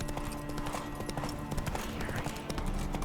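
Roach the horse's hooves clip-clop steadily in The Witcher 3, a continuous trotting rhythm over a dense bed of game ambience and music.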